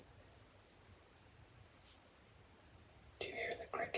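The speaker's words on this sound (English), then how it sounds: "Do you hear the crickets?" Crickets in a rainforest trill in a steady, continuous high-pitched drone throughout, with a brief soft sound near the end.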